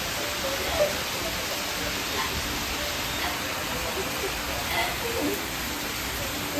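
Monsoon rain pours down on a garden in Kerala, producing a soft, unbroken hiss that stays even throughout, with no talking over it.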